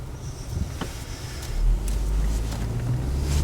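A car's steady interior rumble as it starts driving on a street, a low continuous road and engine drone with a slight swell partway through, no talking.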